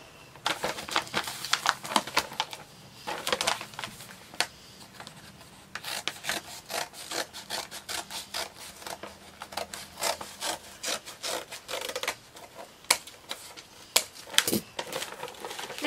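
Costume material is cut by hand for a DIY Halloween costume, producing a string of close, rasping strokes in an uneven rhythm with brief pauses between bursts.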